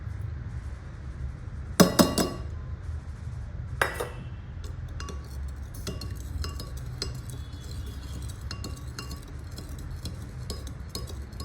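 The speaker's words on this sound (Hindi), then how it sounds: "इसके बाद अपन ऑक्सैलिक एसिड डालेंगे" Oxalic acid for rust removal poured into a glass container, with a couple of sharp glassy clinks near the start, then faint scattered tinkling over a low background rumble.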